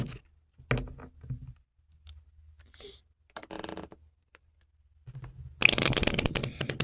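Tarot cards are shuffled in several short riffling bursts, closing with a longer, louder riffle; quiet handling noises fill the gaps between.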